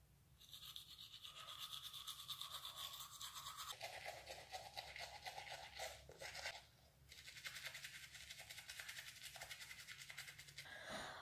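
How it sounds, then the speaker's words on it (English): Toothbrush with toothpaste scrubbing teeth up close, a fast wet rhythmic scratching that runs steadily with a couple of brief pauses. "I just brushed my teeth"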